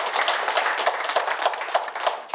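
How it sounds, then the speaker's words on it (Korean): An audience at a Buddhist-themed poetry lecture claps steadily for about two seconds, a dense patter of many hands at a close, even level with no voices over it. "박수 한번 쳐주세요."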